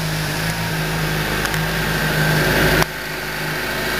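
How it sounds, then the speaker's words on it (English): A 2007 Honda CBR 600RR sport motorcycle with about 3,500 miles idles close by, a smooth steady engine hum with a faint tonal whine, briefly shifting in character toward the end. "But you hear the engine here. Wow, that sounds awesome."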